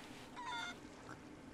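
Chickens in the pirate video game Sea of Thieves give a short, faint clucking call in the middle of a quiet game background.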